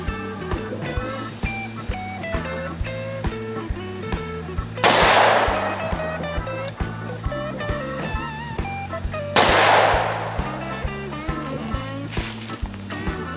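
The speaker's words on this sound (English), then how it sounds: "let's check out these solid copper rounds. Give them a shot. 140 grain." Two loud, sharp shots of .357 Magnum 140-grain solid copper rounds striking an AR500 steel pistol plate, spaced several seconds apart, each with a bright metallic crack and brief ring, over steady background music.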